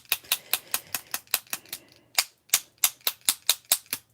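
A bone folder is smacked down repeatedly onto a glittery handmade card, giving a quick run of about fourteen sharp, close taps with one short pause midway.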